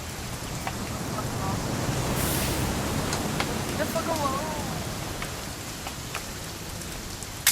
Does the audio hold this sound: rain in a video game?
yes